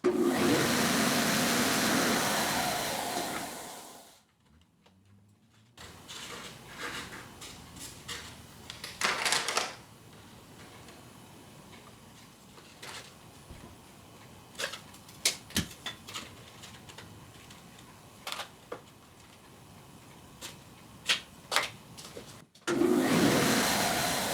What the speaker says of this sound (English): I'm just going to take it over to my drum sander and bump it up against it